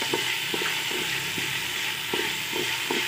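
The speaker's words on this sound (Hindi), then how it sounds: "थोड़ा सा चावल ब्राउन करेंगे, थोड़ा सा फ्राई हो जाए" Rice browning in a pan for payesh (kheer) sizzles in a dense, continuous hiss, with regular light stirring taps marking a loose rhythm, close and without talk.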